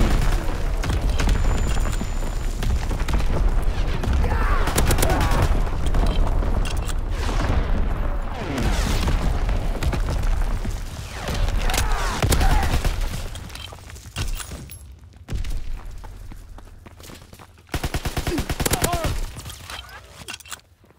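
An artillery battery fires in the Call of Duty WWII video game, with repeated heavy booms and rumbling blasts layered over continuous battle noise and shouted voices, briefly dropping out near the end.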